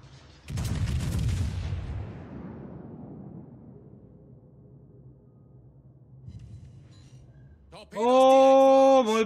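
The battleship Missouri firing its guns in World of Warships: a single huge, close boom opens and rolls away into a long fading rumble, followed later by a loud sustained tonal game sound.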